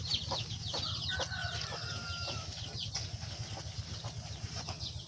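A mother hen and her chicks on a poultry farm, with repeated clucks and high chick peeps over a steady low rumble of background noise, fairly close and without talk.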